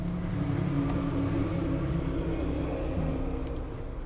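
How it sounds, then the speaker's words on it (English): A truck passing outside gives a steady, loud low rumble with a broad engine drone that holds throughout and eases slightly near the end, with no talking over it. "a truck just passed"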